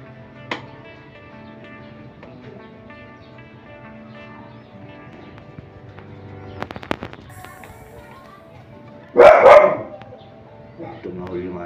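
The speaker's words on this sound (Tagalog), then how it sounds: "Tumahol yung ating aso." A dog barks in a short, loud burst of a few barks near the end, over background music and scattered clicks and bangs, with a voice talking around it.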